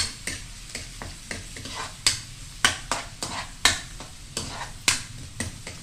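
Pork belly sizzles in a hot pan while being browned for estofado, with steady frying hiss broken by repeated sharp scraping stirs of a utensil against the pan at an irregular, close rhythm.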